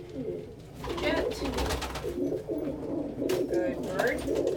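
Pet pigeon or dove cooing close by in soft, repeated rolling coos, with faint background sounds between calls.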